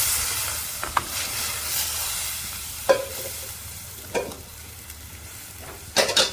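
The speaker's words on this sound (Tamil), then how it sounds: "நான் இப்ப எடுத்து வச்சிருக்கிற தேங்காய் பாலை விடுறேன்" Coconut milk poured into a sizzling pan for a village-style fenugreek curry gives a soft hiss with occasional crackles and stirring clicks, close and fairly quiet.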